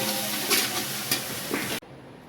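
Chili paste for bread pakora masala hits a hot pan with a steady, loud broadband sizzle and a few stirring scrapes, cutting off abruptly near the end.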